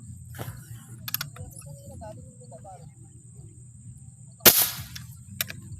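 A single sharp, loud crack of an air rifle shot stands out near the end, with a smaller snap shortly after over quiet background noise.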